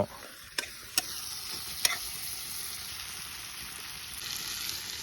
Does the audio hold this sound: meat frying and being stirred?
yes